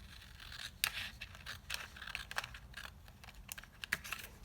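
Scissors cutting out a paper piece for a small handmade envelope, a run of close, crisp snips and scrapes with no talking.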